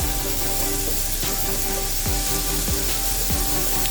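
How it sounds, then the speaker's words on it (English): Chopped onion sizzling and frying in about three tablespoons of hot olive oil in a skillet, a steady close crackle with several scraping stirs of a utensil across the pan, no voices. "let's start sauteing onion"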